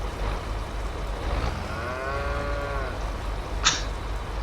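In the Farming Simulator 22 video game a single cow gives a long, drawn-out moo over a low background rumble, followed by a brief sharp click near the end.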